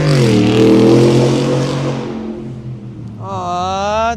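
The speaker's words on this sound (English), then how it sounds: "That guy revved his cute little Ford F-150 with a fucking ridiculous little tailpipe mod up the hill to make it go so it sounded like a big truck" Ford F-150 pickup fitted with a tailpipe mod, revving hard up a hill, a loud sustained engine roar that fades as it climbs away, then a brief higher tonal sound at the end.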